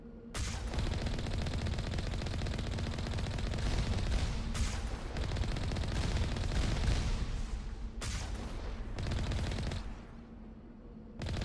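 Turrets firing in Mass Effect, a loud continuous rattle of rapid automatic fire that keeps going for several seconds with short breaks before fading out.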